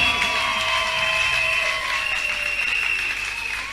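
A live crowd applauds and cheers at a gospel music show, sustained clapping with shouts and whistles rising close by, then gradually tapering off.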